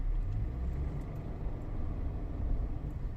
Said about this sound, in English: Someone in a big four-wheel drive that just doesn't seem to understand the laws of the road.